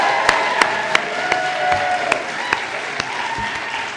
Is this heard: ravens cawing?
no